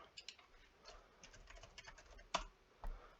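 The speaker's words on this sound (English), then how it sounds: "Type in again, and there it is." Keys clatter on a computer keyboard while a name is entered into a search box, a quiet, uneven run of soft clicks with a couple of sharper taps near the end.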